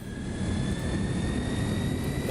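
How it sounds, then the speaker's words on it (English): A simulated aircraft engine spools up in Microsoft Flight Simulator 2024 on the Inibuilds NAMC YS-11, with a steady, loud broadband roar and thin whining tones holding throughout, no voices. "I'm going to go ahead and get the engine started now"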